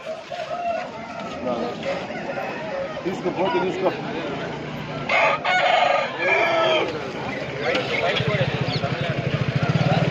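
A rooster from Tamil Nadu crows amid a busy Sunday outdoor chicken market crowd, with people talking throughout and an engine idling near the end.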